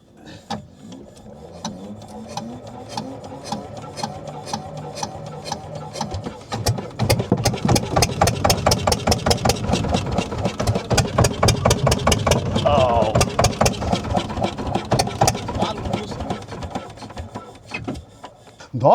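A boat engine is cranked hard, with a few weak sputtering attempts, then catches and runs in a loud, rapid rhythmic chug close by before cutting off near the end.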